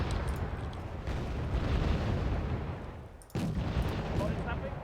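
Artillery shells burst in the war strategy game Wargame Red Dragon, dense rumbling explosions rolling continuously with a sharp new blast near the end, loud and close.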